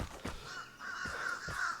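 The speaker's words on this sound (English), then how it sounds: "Crows." Crows cawing in the video game Vigor, a few harsh calls spaced out over a faint background, moderately distant.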